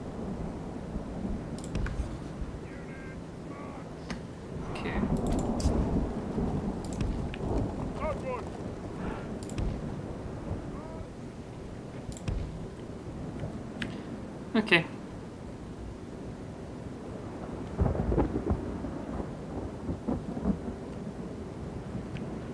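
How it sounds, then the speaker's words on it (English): Rain and rolling thunder from a storm in The Lord of the Rings Online, with low rumbles swelling at intervals and a sharper crack midway, steady rainfall beneath, while a person talks over much of it. "It's raining, it's pouring."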